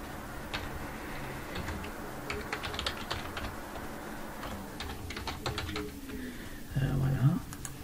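Keys on a computer keyboard are tapped in quick, irregular bursts as a map name is typed, light close clicks over quiet room tone, ending with a short faint hum.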